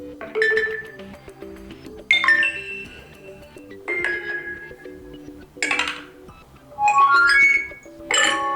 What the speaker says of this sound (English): Let me start with default notification sound.